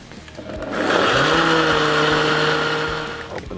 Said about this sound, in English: And I'm putting it in my blender.